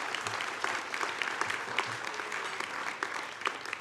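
Sustained applause from a sizeable crowd, a dense steady clapping that stays even in loudness from start to finish.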